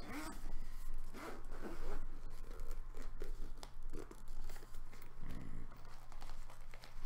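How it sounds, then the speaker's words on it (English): Zipper on a Zelda-themed Nintendo Switch carrying case with a medallion pull embroidered with the Sheikah Eye, zipped in repeated rasping runs close to the mic amid handling rustle. "Got a nice little medallion zipper with the Sheikah Eye symbol embroidered into it."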